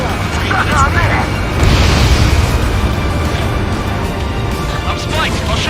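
Fuel storage tanks destroyed in the Ace Combat video game, with deep rolling booms and rumbling blasts under jet engine noise, a loud swell in the middle, and voices talking over the top.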